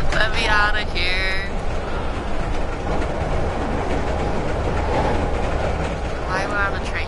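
A train rolls along in the horror video game Layers of Fear, giving a continuous rumble with rhythmic clickety-clack from the wheels and brief metallic squeals, loud and close throughout.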